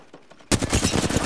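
Video game gunfire erupts after a quiet half second into a loud, close burst of rapid automatic shots that continues to the end.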